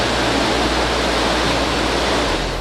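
Water pours steadily at Sirinumu Dam on the Sogari Plateau near Port Moresby, a loud, continuous broadband rush with a low rumble and no breaks.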